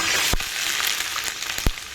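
Onions, green chillies and curry leaves fry in hot oil for a spicy chicken curry, giving a steady, close sizzle broken by two sharp knocks of stirring.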